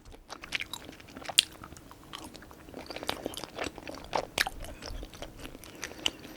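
Someone eating thick Busan-style tteokbokki rice cakes from a home cooking kit, dipped in sauce, with steady close-up chewing and soft wet bites and occasional sharper crunchy clicks, alone without talking.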